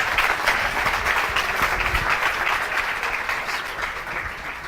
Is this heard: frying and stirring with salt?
no